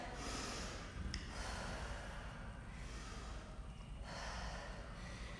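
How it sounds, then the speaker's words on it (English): During a floor stretch, a person takes big deep breaths: long, airy inhales and exhales in a slow steady rhythm, close and soft, with no speech. "Some big deep breaths."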